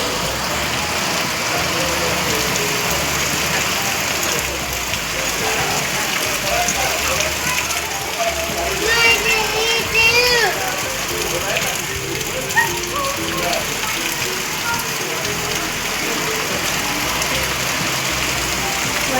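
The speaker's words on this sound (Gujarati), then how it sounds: "અત્યારમાં વરસાદ આવે છે" Steady rain falls outdoors during an unexpected summer shower, a dense continuous hiss of drops on surfaces throughout, with a brief faint chirp or voice partway through.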